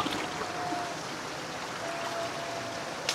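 Water flowing over small mini falls among rock formations at a campsite in Cavite, a steady broadband rush and trickle heard alone, close and continuous.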